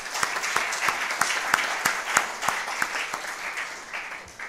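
An audience claps after a presentation at an international conference, the fairly dense clapping carried by a few distinct, rhythmic near claps that keep a steady beat across the whole stretch.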